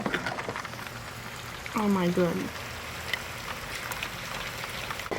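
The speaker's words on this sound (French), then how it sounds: "Oh mais là le son de la pluie." Heavy rain pours outside in a constant, dense hiss, with a woman briefly exclaiming over it partway through.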